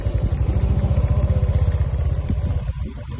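Motorcycle engine running close by with a fast, regular putter that holds steady, then drops off and fades toward the end.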